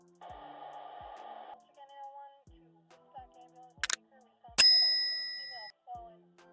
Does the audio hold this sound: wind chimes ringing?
yes